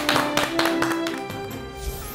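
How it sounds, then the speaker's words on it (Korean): Applause from a studio audience welcoming a classical literature professor, heard as a burst of distinct hand claps that thins and fades over about two seconds against a lingering sustained tone. "큰 박수로 맞아주시기 바랍니다"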